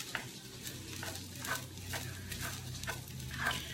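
Onions frying in oil in a pan for fried rice, stirred with a utensil: a steady low sizzle runs throughout, broken by repeated scraping strokes of the spatula against the pan at a regular pace, close and fairly quiet with no talk.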